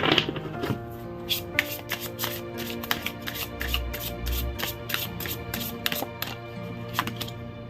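Tarot cards being shuffled by hand for a reading, a close series of crisp riffles and flicks in an uneven rhythm with soft slaps, with no one speaking.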